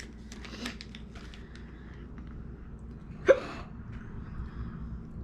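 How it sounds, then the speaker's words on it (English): One sharp hiccup from a woman after eating hot wings, over a steady room hum, with faint sounds around it. "She already start showing signs of hiccups."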